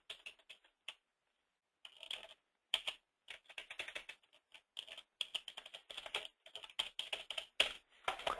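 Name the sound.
typing a credit card number on a computer keyboard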